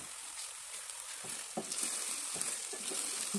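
Whisked yogurt goes into okra masala in a hot pan, setting off a lively sizzle and frying crackle with the soft scrapes of stirring throughout.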